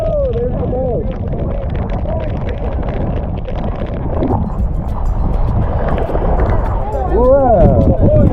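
A boat engine rumbles steadily as the boat arrives at Beqa Lagoon, Fiji, through heavy rain and wind, with voices calling out briefly near the start and again near the end.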